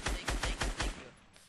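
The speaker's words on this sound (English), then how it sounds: "Oh shit, getting sniped at." Five quick, evenly spaced gunshots crack out in a video game match as the player comes under sniper fire, then fade into a short echoing tail.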